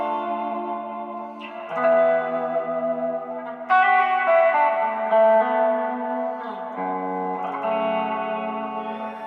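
Electric guitar played through a Solid Gold effects pedal, ringing chords and sustained notes with a lush, slightly distorted, echoing and chorused tone, loud and up close with no talking.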